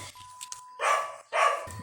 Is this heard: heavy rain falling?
no